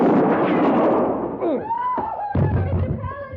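A gunshot sound effect in an old-time Western radio drama: a loud, sharp burst at the start with a booming tail, followed by a man's strained cries and a swelling dramatic music cue.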